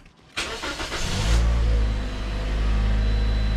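A 2013 Toyota Corolla cranks briefly, then catches and settles into a steady, close idle after an oil change.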